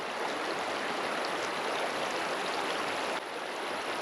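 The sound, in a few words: strong river current flowing over a riffle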